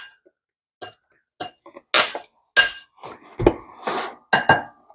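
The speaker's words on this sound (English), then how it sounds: "Just give it a little stir and a little mix." A spoon stirs and mixes ingredients for coconut chewies in a bowl, giving a series of close, bright clinks and scrapes against the bowl in irregular bursts with quiet gaps between.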